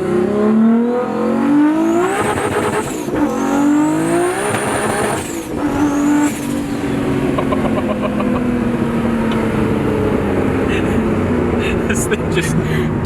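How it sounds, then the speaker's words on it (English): An 1100 hp RB26-powered Skyline R32 GTR with AWD, 40 psi boost and a 9000 rpm limit revs hard while its tires squeal and spin, loud and close, with people talking over it. "This thing just destroys the tires, dude."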